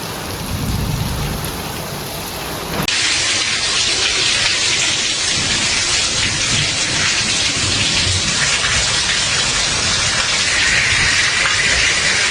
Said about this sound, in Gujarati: આજે જે વરસાદ આવ્યો ને એ એક નંબર